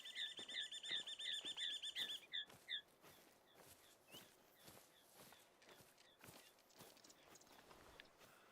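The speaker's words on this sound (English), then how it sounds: "that's obviously a bird" Bird calls in the hunting game TheHunter: Call of the Wild, Peru setting: a rapid repeated chirping series for about two seconds, then scattered single calls among soft crunching footsteps across the rest.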